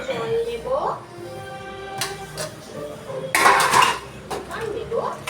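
A bowl is handled and knocked about with utensils as water is taken into it in a home kitchen after frying fish. Sharp clinks and clatters come in a few bursts while a person talks.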